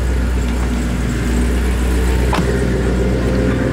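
A Jeep Wrangler engine idles loudly and close by with a steady low rumble, a brief sharp click partway through, and no speech.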